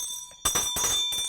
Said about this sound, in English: They will ring the bell.